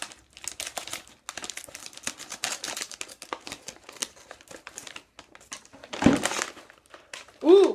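Scissors cutting open crinkly plastic packets of shrimp chips, close rustling and crackling throughout with a few sharper snips, while people talk.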